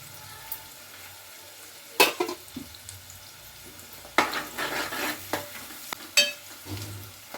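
Curry leaves and mint hit hot oil in a pan and fry with a soft sizzle, broken by a few clattering stirs and scrapes at close range, with no talking.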